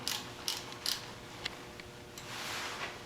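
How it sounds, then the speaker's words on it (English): A 12mm ratchet snugs a timing belt tensioner on a Suzuki Sidekick engine, giving a few soft, close clicks and light mechanical ticks spread over a few seconds in a quiet workshop. "Take a 12mm ratchet, tighten up your timing"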